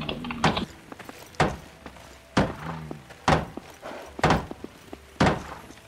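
Stones being clubbed into a wall in the medieval game Life is Feudal: six heavy, dull thunks at roughly one-second intervals, each with a short scraping tail, close and loud, with no speech.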